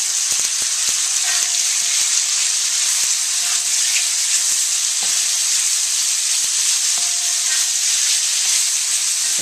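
Bok choy and pork frying in a very hot pan, a loud continuous sizzle and hiss with a few soft clicks and stirring knocks underneath.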